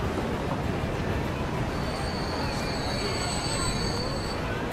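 A train in the game Transport Fever rumbles in with a dense roar, high-pitched wheel squeals streaking above it midway through, loud and close.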